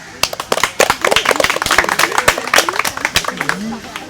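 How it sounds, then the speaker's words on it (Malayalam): A group claps for a boy who answered a quiz question correctly, with a quick irregular run of sharp, close hand claps and voices talking over them. "അപ്പോൾ മിലന് നല്ലൊരു ക്ലാപ്പ്"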